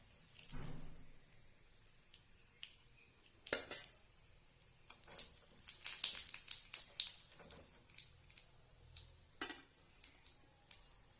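Cooked rava kuzhi paniyaram lifted from the pan sound as a run of light metallic clinks and scrapes, sharp and close, scattered irregularly over a quiet background with no speech.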